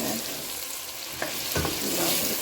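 Loud, steady sizzling from a hot pot as diced potatoes are tipped in and stirred for celery soup, with a couple of soft scraping knocks.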